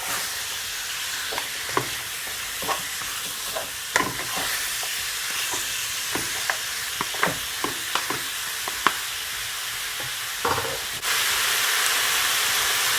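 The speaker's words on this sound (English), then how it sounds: "And I'm just gonna leave it, guys, for at least 5 minutes or so, okay? Just for it to saute." Jamaican curry goat sautés in a pot, a steady close sizzle and hiss broken by repeated scraping stirs, then a louder, even hiss near the end.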